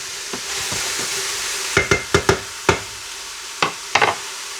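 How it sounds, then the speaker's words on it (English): Vegetables with frozen peas sear in a pot for white lobster soup, a steady close sizzle under a run of sharp spoon knocks and scrapes as they are stirred. "Now we're going to let that sear for just a minute. Give it a nice little stir to mix everything up."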